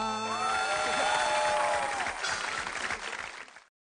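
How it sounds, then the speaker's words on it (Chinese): An audience at an errenzhuan folk-opera show claps, with sustained applause mixed with a lingering tonal voice or instrument at first, then fading as the sound cuts off abruptly. "鼓掌吧。"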